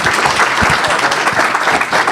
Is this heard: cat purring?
no